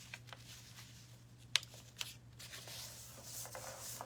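A paper cover for a busted-cover junk journal being folded, with quiet rustling and a couple of sharp, close creasing snaps in the middle.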